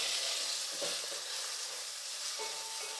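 Chopped medium tomato fries with sautéed onion in a pan, a faint, even sizzle and hiss with a few soft stirring scrapes, heard alone without talk.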